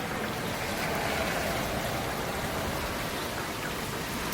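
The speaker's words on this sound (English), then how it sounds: "It's raining." Steady rain falling, a loud, even wash of hiss with no breaks, close and continuous, with no voices.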